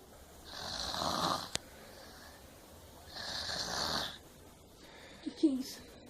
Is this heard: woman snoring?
yes